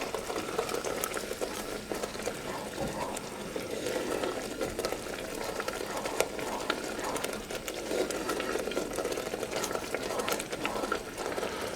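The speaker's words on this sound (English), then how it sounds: "this has been boiling away for about 30 minutes and it's nice and thick" Thick raspberry jam bubbling and popping steadily in a pan, a soft continuous sputter up close, no talking.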